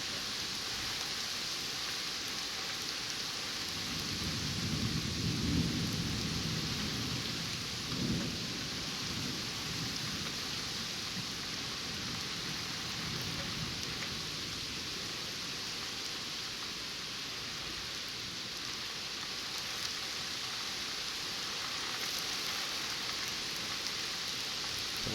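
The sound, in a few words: severe thunderstorm with rain over New York Harbor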